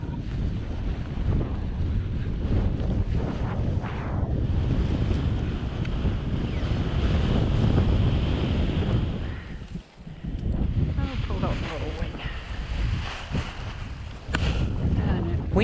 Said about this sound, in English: Wind got pretty strong